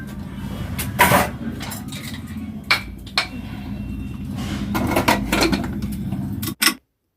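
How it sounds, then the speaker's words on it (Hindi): Dishes and utensils being washed by hand, with scattered clinks and clatters of metal and crockery rising over a steady running-water wash background, the sharpest knocks near the start and middle. "धुलने लगी हूँ बर्तन"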